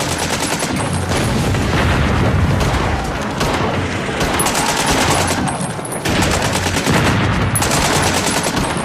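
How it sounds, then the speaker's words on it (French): Heavy enemy fire sweeps no man's land in trench warfare: loud, dense machine-gun bursts and rattling rifle volleys with deep booms, relentless for the whole stretch, no voices. "Pour les autres, ils doivent courir vite et franchir rapidement le No Man's Land sous le feu nourri de l'ennemi."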